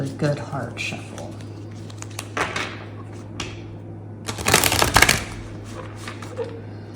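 Tarot cards are shuffled in a few scattered bursts, with a denser flurry near the middle, close by and fairly loud over a faint hum.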